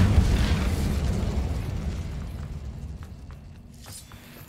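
Spell impacts from the fiery Incendio blast in Hogwarts Legacy, a loud low rumbling burst up front that gradually fades, with a few faint crackling pops trailing near the end.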